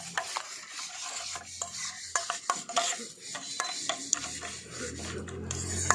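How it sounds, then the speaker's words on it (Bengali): Spices for paneer satay are stirred and mixed together in a bowl, close scraping and rubbing with irregular clicks of the spoon, no voices. "সমস্ত কিছু আমি একসঙ্গে খুব ভালো করে মিশিয়ে নিচ্ছি"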